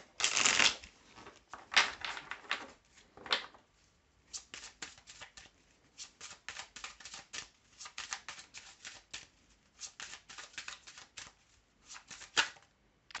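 Oracle cards being shuffled by hand during a tarot-style reading, a run of crisp riffling bursts with short pauses between them, fairly close, with no talking.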